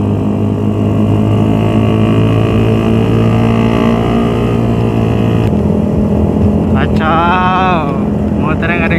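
Modified motorcycles on a night ride through Sudirman roar in a continuous loud engine drone with wind buffeting, and a voice briefly rises near the end.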